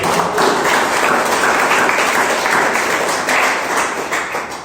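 A church congregation applauds, a dense, loud wash of clapping hands that holds steady for several seconds before tapering off slightly at the end.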